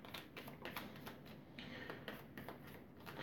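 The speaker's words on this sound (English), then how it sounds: "Now we shuffle." Cards being shuffled by hand for a zombie-themed co-op board game, a run of quick papery riffling taps and shuffles repeating at close range over a soft room background with no talk.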